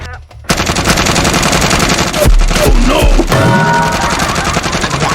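Gunfire sound effect in a Filipino comedy skit, a loud rapid machine-gun burst rattling continuously for several seconds at close range, with a few heavier booms in the middle.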